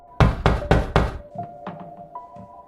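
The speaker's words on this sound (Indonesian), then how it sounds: "sampai sang istri terbangun oleh suara ketukan keras" Loud knocking on a trailer door as a film sound effect, four heavy close thuds in quick succession followed by softer, fainter knocks under a faint tone.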